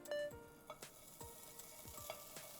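Bacon fries in a dry pan with no oil, a close, steady crackling sizzle marked by a few clicking stirs and spits, with no talking.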